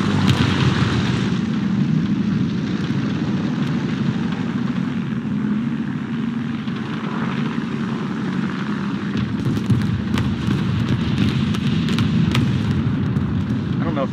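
Loud continuous German tank engine rumble in the video game War Thunder, with a deep low drone throughout, rising rattling noise near the end, and a voice talking over it.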